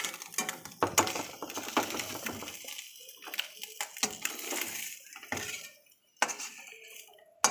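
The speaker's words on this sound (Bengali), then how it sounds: "কড়াই থেকে সব লাবিয়ে নেওয়া হচ্ছে মাছ।" Fried fish pieces being lifted out of a wok after frying with onions, giving a run of scattered clinks and scraping knocks of a utensil against the pan, close by and irregular, with short quiet gaps between.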